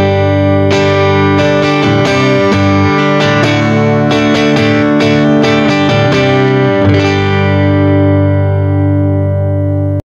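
Electric guitar through an overdriven 15-watt Monoprice Stage Right tube amp combo on its 1-watt setting, chords strummed and ringing out with sustained harmonics, loud and continuous, ending in a long decay.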